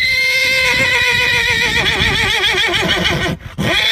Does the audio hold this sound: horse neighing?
yes